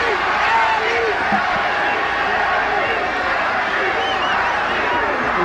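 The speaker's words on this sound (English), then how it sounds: "The crowd has come alive." Boxing crowd at a Muhammad Ali versus Trevor Berbick fight in the Bahamas, a dense, steady roar of cheering voices filling the arena, loud and continuous with shouts rising out of the mass.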